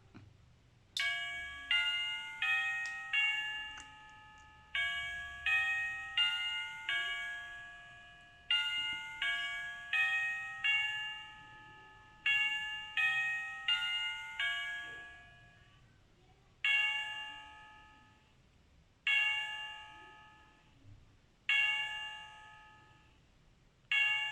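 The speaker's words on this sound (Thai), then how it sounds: "เสียงของโหมดกระดิ่งนี้ก็คือ เสียงกระดิ่งของเวสต์มินิสเตอร์นะครับ" A battery mini cuckoo clock plays the Westminster chime: a melodic sequence of bright chime tones rings out in groups of four, each note decaying, repeating steadily throughout with short pauses between phrases.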